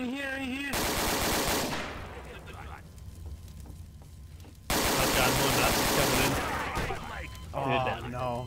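Gunfire in Garry's Mod, loud rapid bursts near the start and again after a quieter stretch in the middle, with a player talking over the shooting.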